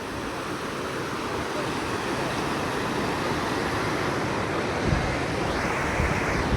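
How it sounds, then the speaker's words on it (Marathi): Floodwater in a swollen river at Sangamner roars as a dense, steady rushing wash, loud and continuous, with some wind buffeting the microphone. "संगमनेरच्या नदीचं पाणी किती वाढलेलं होतं"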